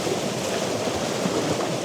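Ocean surf washing against a rocky coastline, a steady, broad wash of breaking water and foam with no distinct peaks, fairly close and continuous throughout, with no voices.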